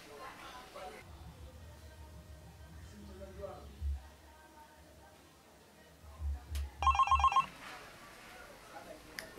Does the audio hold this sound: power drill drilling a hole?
no